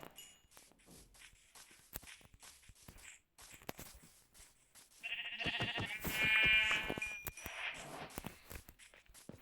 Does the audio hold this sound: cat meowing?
no